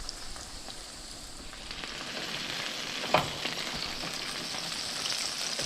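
Pork chops frying in hot grease in a pan make a steady, close crackling sizzle, with one sharp louder pop about midway.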